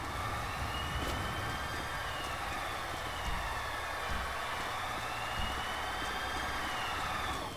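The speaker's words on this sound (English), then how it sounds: "Come on, ambulance, you can come through." An ambulance siren in the video game GTA V wails continuously over a steady engine rumble and busy background noise, loud and unbroken throughout.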